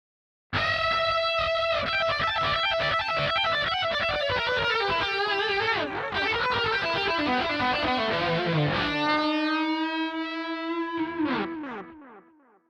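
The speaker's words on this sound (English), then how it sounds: "And now in dry, wet, dry." Distorted electric guitar solo through a dry-wet-dry stereo delay setup, with quick legato phrases and bends trailed by echoes, finishing on a held vibrato note that decays away, prominent with no talking.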